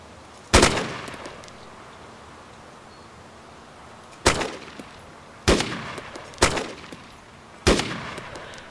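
Gunshots from a gun in the video game DayZ, five sharp single reports, one early and then four spaced more closely near the end, each loud and alone against quiet ambience.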